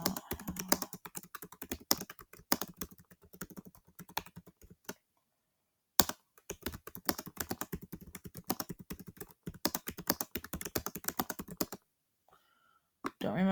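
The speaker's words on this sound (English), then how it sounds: "So I'm going to type exactly that." Rapid clicking of keys on a computer keyboard, typed in steady bursts with a clear pause in the middle and a near-silent stretch toward the end.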